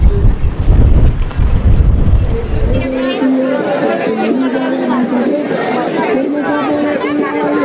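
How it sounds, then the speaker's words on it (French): Wind gusts into a marina on the Galician coast of Spain, a loud, rough buffeting for the first few seconds that drops away to a steady background of distant voices and crowd chatter. "c'est le vent qui rentre"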